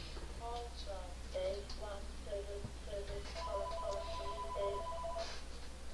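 A phone ringtone plays a repeating melodic pattern of bright tones at moderate volume, with a person talking over it during a live stream.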